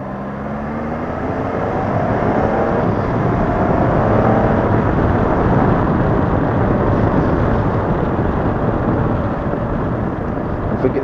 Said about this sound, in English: There's some old farmer cruising down the road in his pick-em-up truck.